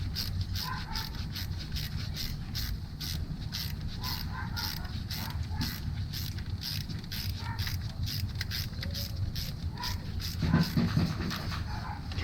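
A 10 mm ratchet clicks in quick, repeated runs while tightening timing chain bolts on a 2014 Acadia 3.6L engine, close and fairly quiet over a low mechanical background.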